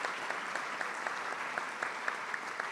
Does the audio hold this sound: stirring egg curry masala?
no